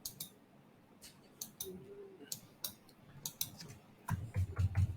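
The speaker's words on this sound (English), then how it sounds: "Hold on, let me type it now." Keys click in short, irregular bursts on a computer keyboard, faint and close, with a low hum and a brief mumble underneath.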